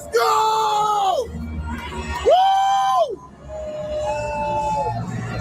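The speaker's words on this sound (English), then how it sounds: "The only black person in that crowd making all that noise." A crowd screams and yells, with one loud, shrill sustained voice rising in long wavering cries above a steady crowd din across several seconds.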